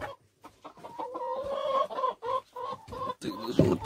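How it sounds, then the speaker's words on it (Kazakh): Domestic hens in a coop with a rooster among them, clucking in a run of close, repeated short calls with brief pauses between, ending in a louder squawk. "Бүгінгі біздің тауықтарымыз"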